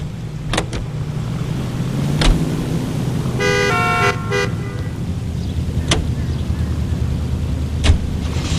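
Car driving in the 1940s Los Angeles crime game LA Noire, a steady low engine drone with a few brief sharp clicks and a short tonal horn-like burst in the middle, no talk.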